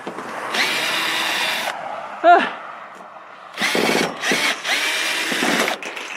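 A power drill driving screws into a roof under repair, several whirring bursts of rising and falling pitch separated by short pauses, close and loud, with a brief voice in between.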